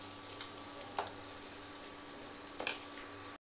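Fish belly pieces fry in a pan, a steady crackling sizzle with a few sharper pops and spatters, close and continuous until a brief cut at the end.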